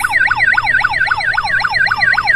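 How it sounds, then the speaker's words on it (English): Warbling electronic siren from a pink and purple Doc McStuffins ride-on toy ambulance in a park, loud, close and continuous, repeating in a fast rising-and-falling pattern. "A Doc McStuffins ambulance."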